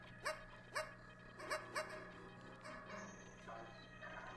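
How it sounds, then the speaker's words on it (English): A puppy in a video game gives four short, quiet yelping barks in quick succession, then softer whimpering calls over a low steady hum. "I am hearing another pup"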